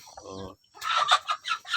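Free-range village chickens cluck nearby, a short low call followed by a run of louder, choppy clucks.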